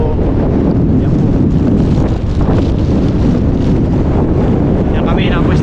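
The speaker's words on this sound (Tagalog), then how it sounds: "Sensya na po sa hangin at medyo yan po." Strong wind buffets the microphone continuously on an open, sandy seashore, a loud low roar throughout with faint water and surf underneath.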